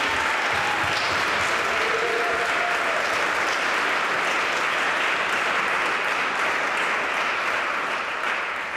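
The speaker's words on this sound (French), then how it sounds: "Je pense qu'on peut applaudir ces voteurs-là." Applause for voters at a parish gathering, a steady wash of many hands clapping together, moderately loud and even throughout with no break.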